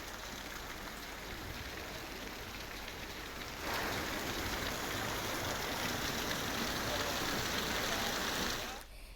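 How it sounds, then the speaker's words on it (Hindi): Heavy rain driven by strong winds at night, a dense hiss of drops on surfaces that grows louder midway and cuts off abruptly near the end; no clear voices over it. "में देर रात से तेज हवाओं के साथ बारिश हो रही है"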